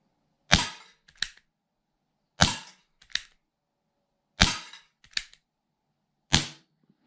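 Schofield six-inch 4.5 mm air revolver, aged black finish, shooting Pro Magnum competition pellets into a target: four sharp, loud cracks spaced about two seconds apart, each trailed by a quicker, fainter snap from the pellet striking.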